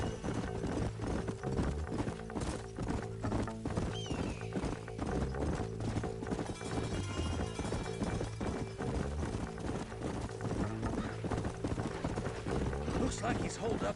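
Horses' hooves clip-clopping steadily in the western video game Red Dead Redemption, several horses trotting close by with an occasional whinny, under characters talking.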